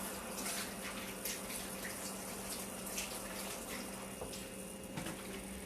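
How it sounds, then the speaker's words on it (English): Water runs steadily from a kitchen tap as hands are rinsed, a faint continuous splashing hiss with a few small clinks. "So I rinse my hands real quick."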